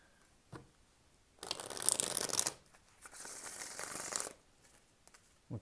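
A tarot deck is shuffled by hand in a quiet room, two distinct riffling bursts of rapid card flutter separated by a pause, close and clear.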